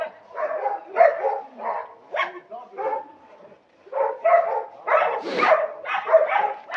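Dogs bark repeatedly in bursts on a village street, several loud yaps and bow-wows close by, with a short lull midway before another volley; someone talks between the barks.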